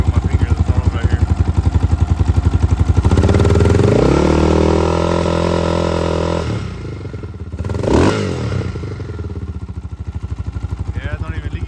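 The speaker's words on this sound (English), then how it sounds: "Let me rev it. Actually, I don't have the throttle connected. I gotta rev it right here with my finger." A Yamaha Raptor 660 quad engine with its intake boots disconnected, idling with a rapid, loud, close putter, then revved by hand at the throttle into a rising roar that falls back to idle.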